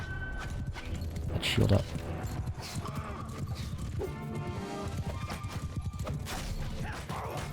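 Horses gallop in Mount & Blade II: Bannerlord, a continuous rumble of hooves amid a noisy medieval battle with clashes and crashes, while someone talks over it.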